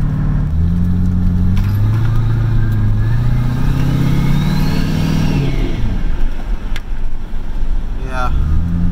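A turbocharged car with a failing, overboosted turbo revs loudly on a race track, the engine note climbing and falling in sweeps, close and continuous, with some wind or road noise.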